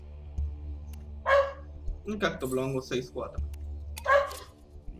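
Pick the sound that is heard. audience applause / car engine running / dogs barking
dogs barking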